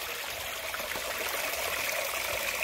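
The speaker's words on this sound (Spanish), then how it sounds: "Tenemos nuestro propio río con agua abundancia" Steady broadband rush of river water flowing over a white-earth streambed, running continuously and fairly close with no talk over it.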